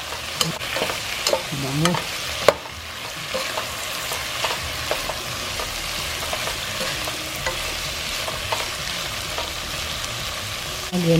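Beef sautéing in a hot pan for ampalaya con carne, a steady close sizzle with a few scrapes and stirs of a utensil and one sharp knock, and a single word spoken near the end.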